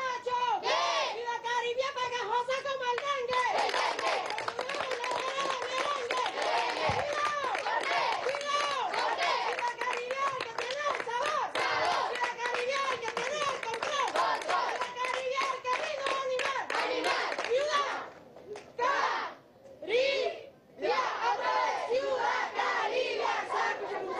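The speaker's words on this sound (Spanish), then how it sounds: "Aplauso para ustedes" A large crowd at a hospital inauguration event with the Venezuelan president claps and cheers energetically, voices chanting and shouting over rhythmic clapping that continues for a long stretch before breaking off near the end.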